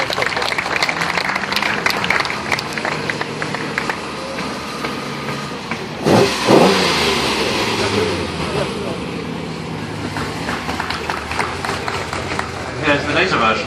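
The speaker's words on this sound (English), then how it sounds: "I think it deserves a big round of applause." Crowd at a vintage and supercar concours parade in Syon Park, London applauds steadily, with a passing car engine surging midway and someone talking over a loudspeaker.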